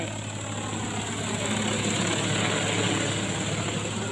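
An agricultural spray drone descends to land for a fertilizer refill, its propellers giving a steady, close, droning buzz with a constant whine that holds evenly throughout, with no talking.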